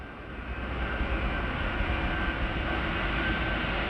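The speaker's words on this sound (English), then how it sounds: "Then British Concorde, commanded by Captain Brian Walpole." A British Airways Concorde supersonic jet landing at Kennedy Airport, New York, on its inaugural flight, producing a steady, loud, broadband jet roar that holds constant throughout without any talk.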